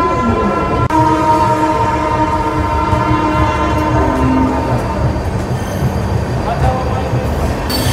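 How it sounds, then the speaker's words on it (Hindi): A Humsafar Express train pulls out of platform 6 at Anand Vihar station, with loud, close rumble and clatter of wheels on rails and steady tonal squealing and hum as it gathers speed. "दोस्तों इसी के साथ हम लोग की ट्रेन डिपार्ट कर चुकी है"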